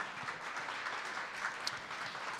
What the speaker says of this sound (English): Big round of applause for number 94 tonight.